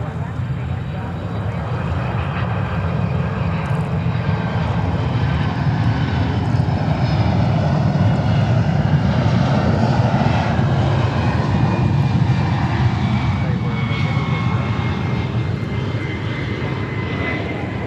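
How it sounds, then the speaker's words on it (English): A Delta Boeing 767-300 jet airliner arriving from Atlanta at JFK Airport in New York roars steadily, a loud sustained engine rumble filling the air throughout with a faint voice beneath. "we have Delta coming in on a 767-300"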